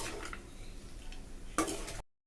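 A spoon scrapes and turns capsicum rice in a pan, a soft, close stirring scratch with a sharper clatter near the end before it stops abruptly.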